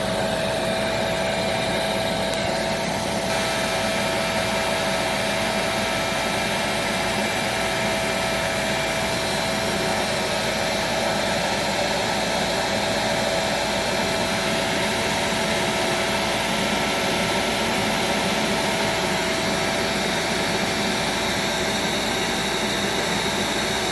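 A Dust Care Evolution 6709Z vacuum runs steadily during an airflow test, producing a loud, constant motor roar and rushing air with a faint high whine, unchanged for the whole stretch.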